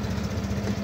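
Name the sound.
Euromotors Griffin 180i motorcycle engine idling, stock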